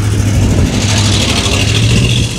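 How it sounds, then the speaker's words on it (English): Car traffic passes near an old cemetery in Statesville, North Carolina, a continuous loud engine rumble mixed with wind noise, steady across the whole stretch. "Please bear with me with the noise from the cars and the wind is blowing"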